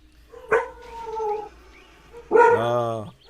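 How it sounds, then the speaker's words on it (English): Dogs on an island bark and howl: a sharp bark, a drawn-out howl, then another louder bark trailing into a howl, fairly close, with no talk. "The sweet sound of dogs on the island."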